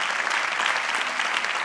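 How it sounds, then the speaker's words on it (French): Dense, even applause from an audience honouring winners of the Gland town new economy prize in 2023, a continuous clapping crowd heard close and steady throughout. "Magnifique, on vous applaudit et vous pouvez vous regrouper."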